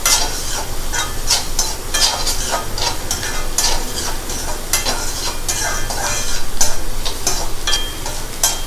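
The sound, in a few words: sautéing onions on high flame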